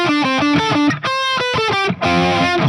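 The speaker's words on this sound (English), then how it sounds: "So you want to play a simple bluesy riff on the lead guitar." Simple bluesy riff on a distorted lead electric guitar, a short run of bending, sustained notes played up close and loud, with no talking.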